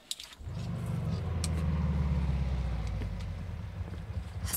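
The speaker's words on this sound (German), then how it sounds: "Ich werde einen Motor kurz schließen." A hotwired car engine turns over and then runs steadily with a low, droning rumble close by, a little wind noise over it.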